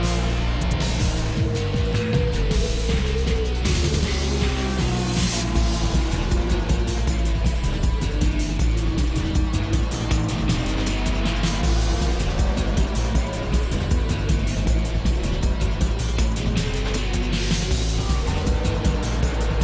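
Race cars, among them a Porsche 911, roar steadily around a track in a Challenge Series race, engines loud and continuous with layered revving and passing sounds throughout.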